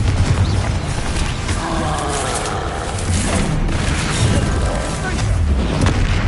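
Confringo explosive spells go off during a hard-difficulty Hogwarts Legacy fight, a steady, loud wash of booming blasts and rumble with a voice and game sounds running underneath.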